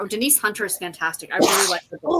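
A single sudden sneeze bursts out midway through steady conversational speech, loud and close, with talking continuing before and after it.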